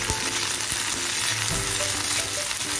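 Green chilies frying in hot oil for Sangli-style kharda, a loud steady sizzle close up with occasional pops and spatters and no voices.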